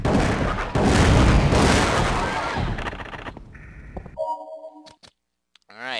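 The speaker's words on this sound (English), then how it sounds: "Testing the shotguns on a hunter." Shotgun blasts hitting a hunter creature in Resident Evil: The Umbrella Chronicles, loud booming shots up front that give way to quieter game effects and a brief tonal sweep.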